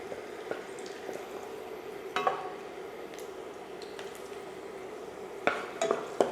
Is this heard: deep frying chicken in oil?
yes